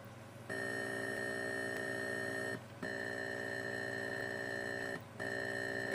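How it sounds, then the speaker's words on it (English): An Atari 8-bit cassette loader program sounds a steady, fairly quiet electronic tone with rich harmonics, broken by two short gaps at regular intervals, with no voices. "If it actually works, it will take another 10 minutes of beeping"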